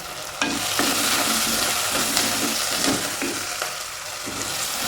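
Curry leaves go into frying onion and tomato for a tuna fish curry. A loud, continuous sizzle sounds close up, with scraping stir strokes and light clatter all the way through.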